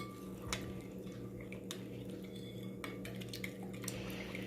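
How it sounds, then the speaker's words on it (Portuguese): A spoon stirs yeast, sugar and salt together in a bowl for homemade bread, making soft scattered clinks and scrapes against the bowl over a steady background hum. "Mexer bem"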